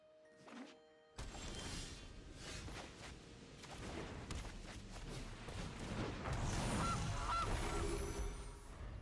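In the card game MTG Arena, the Gilded Goose card sounds a honking goose call as it is played, followed by rumbling, crashing game effects that swell louder.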